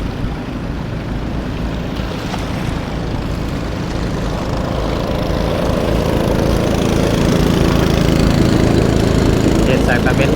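A long-tail boat engine on the Mae Moei river drones steadily and loudly, a continuous rough motor roar with water rush that grows slightly louder toward the end, with no talking.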